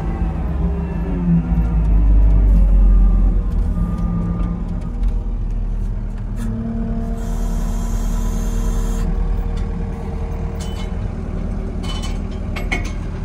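A truck pulls a stuck vehicle out of a rut while hauling hay: a heavy, low engine rumble that swells loudly early on, then settles into a steady labouring drone, close and without speech.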